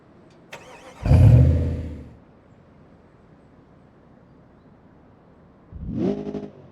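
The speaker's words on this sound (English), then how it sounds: "sound of the startup is way louder than the actual truck at idle." A loud Toyota truck engine cranks and roars to life, then fades, followed after a pause by a second, quieter rumbling burst.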